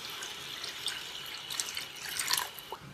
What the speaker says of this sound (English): Enough water to merge both of the fish.